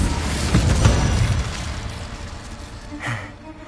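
A fiery Incendio spell effect from Hogwarts Legacy erupts with a loud, close burst and whoosh, fading over a couple of seconds before a second, smaller flare near the end.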